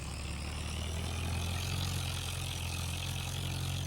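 A tractor engine in Farming Simulator 25 idles in a steady low rumble. The hum stays constant and moderately quiet with no changes in revs.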